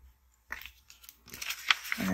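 A corner rounder punch snips paper corners in a few quick, crisp clicks and crunches, close and fairly quiet, with faint rustling between cuts.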